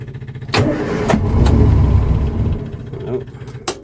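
A Morris Minor with a new carburettor setup cranks and catches, its engine rumbling up into a rough, close idle, with sharp clicks at the start and near the end.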